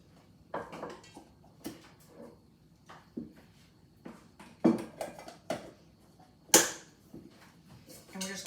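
A floured metal bundt cake pan is tapped repeatedly by hand, giving irregular sharp knocks and clatters, close and fairly quiet, with one louder bang near the middle.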